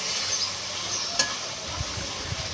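Masala spices being stirred together with tomatoes in a pan for Sindhi chicken masala, giving a soft steady sizzle with a few low scraping thumps of the spoon near the end, close and fairly quiet with no talking.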